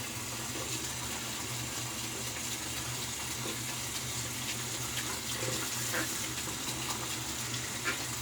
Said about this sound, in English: Rinse out the brush.